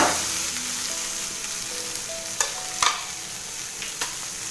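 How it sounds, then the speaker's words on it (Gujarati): Sweetcorn frying in a hot pan for a Gujarati makai chevdo snack, a steady broadband sizzle with a few sharp stirring scrapes and clicks near the end, close and continuous without any voices. "હવે તેમાં જે આપણે મકાઈ લીધેલી છે તે એડ કરીશું."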